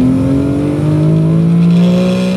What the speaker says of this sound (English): Driving the BMW 337 CI.